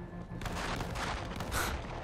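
Dull, distant gunfire rumbling from a bus in the zombie shooter World War Z, a few muffled bursts blended into a steady low game soundscape.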